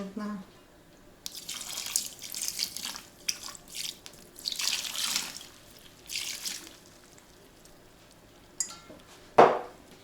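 Liquid pours and splashes as 9% vinegar goes into a plum marinade for winter pickled plums, heard as several close bursts of trickling and dripping, ending in a sharp clink.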